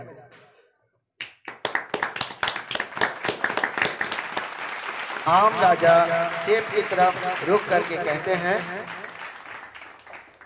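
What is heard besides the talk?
clapping in a drama's court scene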